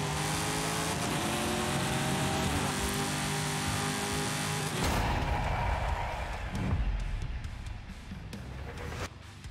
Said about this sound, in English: Actually makes the idling noises of the cars sound even sweeter.